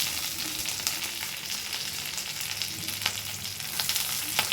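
Ginger, garlic, fennel, green chilli and onion sizzle steadily in hot oil in a pan, a dense continuous crackle with occasional sharper pops and stirring scrapes, close and fairly loud with no talk.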